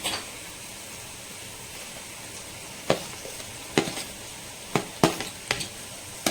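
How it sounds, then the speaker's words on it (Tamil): Cut mushrooms being stirred into a masala frying in a pan for a broccoli mushroom gravy. A soft, steady sizzle runs throughout, punctuated by a handful of sharp spoon knocks and scrapes against the pan. "கட் பண்ணி வச்சுருக்கிற மஷ்ரூம் வந்து சேர்த்துக்கிறேன்"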